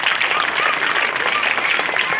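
Audience applause at a smart classroom inauguration event, steady and dense clapping throughout, loud and close with no talk over it.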